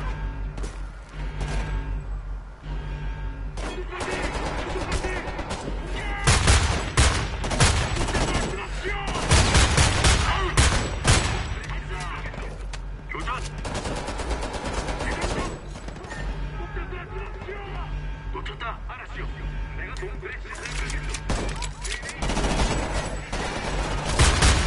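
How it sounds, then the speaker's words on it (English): Gunfire crackles in rapid, irregular bursts of shots and volleys, loud and close, with heavier clusters midway and brief lulls between. Voices can be heard faintly underneath. "Who are they shooting at?"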